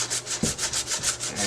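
Coarse 80 grit sandpaper rubbing across carved plaster in steady back-and-forth strokes, a close, even rasping rhythm with one brief knock partway through and no talking.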